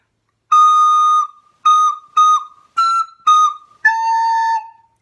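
A soprano recorder plays a short Carol of the Bells phrase: five quick, clear, breathy notes in a bouncing rhythm, then a longer held note, close and bright with no talking.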